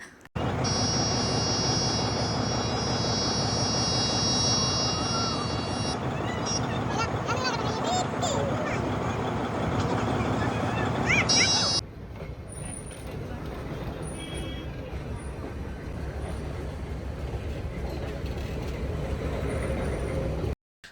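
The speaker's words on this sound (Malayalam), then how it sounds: "ഒന്നര മണിയായപ്പോൾ തന്നെ ട്രെയിൻ വരുന്നുണ്ട്" A train pulls into a station in Ooty, its loud steady rumble and rolling clatter filling the scene, with high whistling squeals early on, then a sudden drop to a quieter hum of idling machinery and ambient noise.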